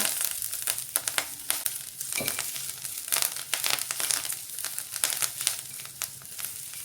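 Whole spices dry-roasting in a pan for a Nashik-style kat vada rassa, giving a crackly, crinkling sizzle with scattered sharp pops and rustles throughout, close and fairly steady, with no talking.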